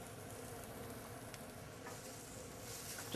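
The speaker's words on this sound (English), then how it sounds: "If you can get a sound of that sizzle" Onions sizzle steadily in hot oil in a pan while a kosher boneless ribeye roast is being cooked, a continuous close crackling hiss with a few small pops and no talk.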